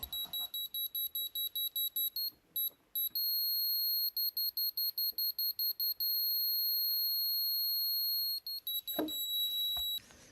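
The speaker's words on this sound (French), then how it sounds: "on a un système de bip que je vais essayer de vous faire écouter" Beeps from a Sola Go Smart connected sound spirit level: rapid runs of short, evenly spaced high beeps, then a long continuous tone, then faster pulsing again, thin and fairly quiet with no talk.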